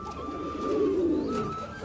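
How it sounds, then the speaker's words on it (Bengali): A pigeon at a pigeon farm in West Bengal gives a single low, rolling coo lasting under two seconds, close and clear against faint background hum. "দেখো বন্ধুরা অ্যাক্টিভ দেখো কতটা পায়রা"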